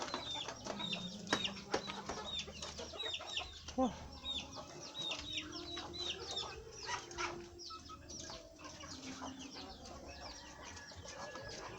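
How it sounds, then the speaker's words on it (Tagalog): Farm chickens cluck and squawk with busy clatter and a few wing flaps, while ducks are audible among them around a feeding spot, steady and close by. "medyo makikita nyo yung aking mga alagang manok tsaka itik sila nagkakainan pa"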